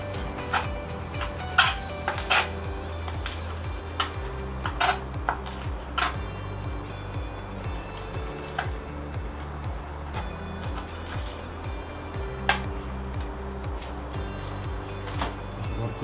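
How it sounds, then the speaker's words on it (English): Knife cutting three rashers of streaky bacon on a board, with a series of faint, irregular tapping clicks and knocks over a quiet kitchen background. "I've got three rashers of streaky bacon that I'm just going to cut up."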